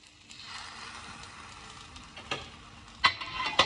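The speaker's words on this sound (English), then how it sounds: "Then we stir well." A spoon scrapes and churns through potato paratha filling in a bowl with soft, quiet, uneven stirring. A few sharper clicks of metal against the bowl come near the end, and no one speaks.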